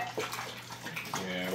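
Tap water runs steadily in a home kitchen for dogs to drink, a continuous close splashing wash with a voice talking softly over it.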